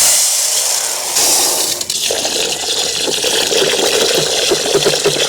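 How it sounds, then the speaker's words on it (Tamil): Basmati rice being washed in water in an outdoor village kitchen for a large chicken biryani: steady loud splashing and gushing water, close up and continuous, with no voices. "ஒரு தடவை கொட்டி நல்லா கழுவி ஊற வச்சுக்கலாம்."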